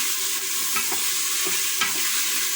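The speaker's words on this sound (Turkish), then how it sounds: "Şimdi hepsini birden böyle karıştırıyorum." Meat is stirred in a cooking pot while it browns, with repeated scraping strokes of the spoon over a continuous loud sizzle.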